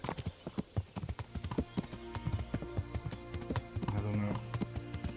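Horse hooves clip-clop steadily in Kingdom Come: Deliverance, a quick, even rhythm of sharp close hoof strikes that runs throughout, with a voice talking over it.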